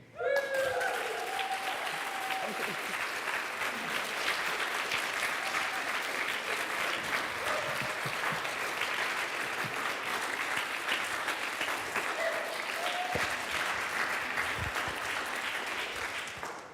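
Sustained applause from a conference audience at the Centre for Alternative Technology, a dense wash of clapping that holds steady for over fifteen seconds before tapering off, with a few faint voices and cheers mixed in.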